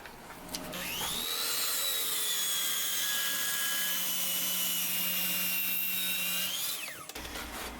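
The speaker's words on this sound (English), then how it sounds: "I'm going to take over to the saw, and the 1/2 inch is the piece I'm going to cut off" A power saw spins up and cuts a half-inch strip off a wooden box to make its lid, a steady loud whine that runs for several seconds before winding down; no talking.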